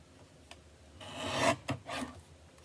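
A small paper trimmer slices through card in a papercraft session, giving a close, quiet rasping swipe followed by a couple of shorter scraping strokes.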